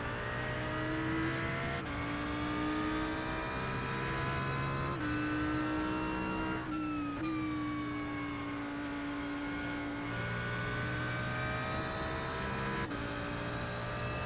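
An Audi R8 LMS GT3 race car laps Spa-Francorchamps in iRacing, its engine droning steadily with rising and falling revs and sharp shifts, loud and continuous throughout.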